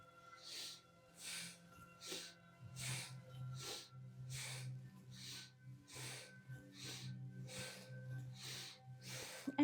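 Around ten rhythmic breaths, each a soft airy hiss repeating about once a second, close and clear over a low steady background hum, taken during a seated yoga spinal twist.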